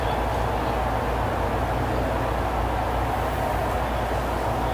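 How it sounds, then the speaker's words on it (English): A train approaching along a railroad, a steady dense low rumble and broadband roar that holds loud and constant throughout, with no voices. "the sound of a train coming my way"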